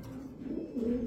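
Pigeons cooing at close range, a low, soft, throaty call rising and falling twice in quick succession.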